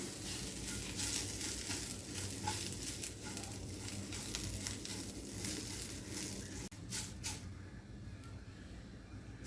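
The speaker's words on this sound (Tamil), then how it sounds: "எடுத்து வச்சுருக்கிற கருவேப்பிலையை நம்ம வறுத்துக்கலாம்." Curry leaves fry in oil in a pan over a low flame, giving a steady, close crackling sizzle for the whole stretch, with a short dip near the end and no voices.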